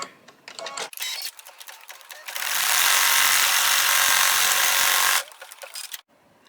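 An embroidery machine stitches centering crosshairs onto stabilizer. A few scattered mechanical clicks lead into a steady, loud whir of rapid stitching lasting a few seconds, then more short clicks and a stop.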